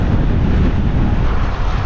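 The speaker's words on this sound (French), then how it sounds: "Avec ce vent de face." Steady wind roar buffets the microphone of a road cyclist riding into a headwind on a long 200 km ride, a loud continuous rumble with no voices.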